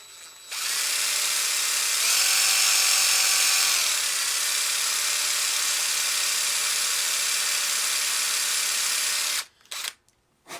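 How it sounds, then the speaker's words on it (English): A power tool mills out a hole to enlarge it in a Dillon 550C reloading press toolhead, producing a steady high-pitched whine that rises in pitch for a moment, then runs evenly before cutting off in short bursts near the end. "So we're basically just milling our hole a little bit bigger."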